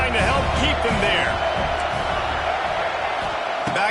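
A packed football stadium crowd at an Arkansas game roars in a loud, sustained wall of cheering, with a commentator talking over it throughout.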